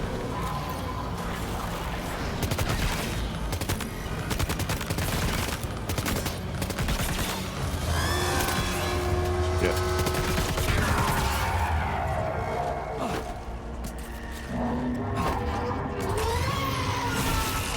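Rapid bursts of gunfire from an assault rifle in the video game Death Stranding 2, dense crackling shots going on steadily over a backing of tonal music and game effects.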